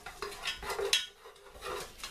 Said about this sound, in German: Rühren das Ganze quasi den schön durch